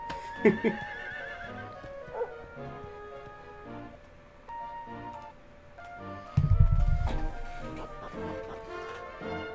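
A horse neighs and hooves clop in the Dragon Quest XI video game, with a whinny near the start and heavier galloping hoofbeats later over a soft game-music background.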